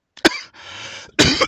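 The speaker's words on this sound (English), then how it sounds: "sorry for my cough" Two close, loud coughs from a person, separated by a brief stretch of quieter breathy noise, with no speech around them.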